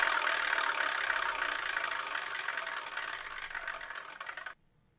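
A spinning prize wheel gives a fast, steady clicking rattle for about four and a half seconds, then stops abruptly into near silence.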